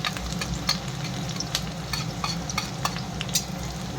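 Chopped garlic fries and sizzles in a pan for a mustard greens dish, with a steady close crackle and occasional sharp stirring clicks from a utensil, no voices.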